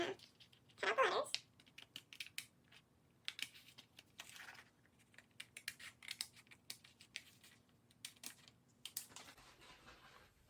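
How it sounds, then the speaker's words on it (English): Scissors snip carefully through paper to cut out letters, giving quiet irregular clicks and short crisp cuts up close, with a faint steady hum underneath and no clear voices. "I'm going to cut out the letters very carefully"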